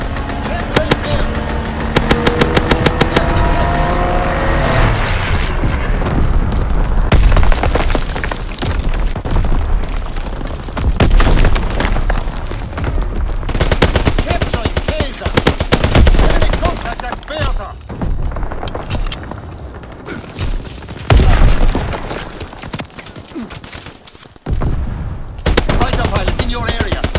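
Artillery strike and gunfire in a Call of Duty: WWII match, dense bursts of rapid machine-gun fire and heavy booms in loud, irregular volleys, with radio-style voice callouts mixed in.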